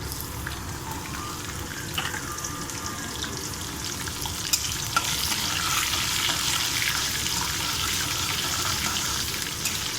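Green chillies frying in hot oil in a pan, a dense, continuous crackling sizzle that grows slightly louder partway through, with faint occasional clinks.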